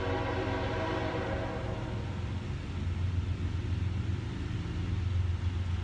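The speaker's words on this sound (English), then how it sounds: "hang on, Tony, let's pause for a moment of silence and enjoy the train" A train rumbles past steadily, a low continuous roar with rattling wagons and a sustained horn-like tone, fairly loud and unbroken throughout.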